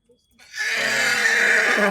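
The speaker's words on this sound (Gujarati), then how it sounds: "અને આપણે અત્યારે જે સ્ટેલિયન છે એમની વાત કરીએ તો એ અમારો જોન ઘોડો છે." A 45-month-old stallion on a horse farm gives one loud, close, drawn-out whinny that rises after a brief quiet start.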